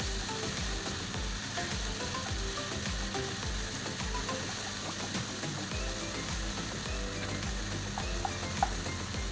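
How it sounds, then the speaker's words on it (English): Chili bean paste stir-frying in a hot wok, a steady close sizzle with scraping and clattering from the spatula running throughout, no voices. "Just give them a good fry."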